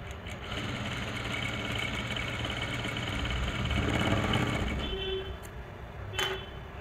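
A sewing machine stitches a lehenga blouse in one continuous run that stops near the end, followed by a couple of sharp clicks.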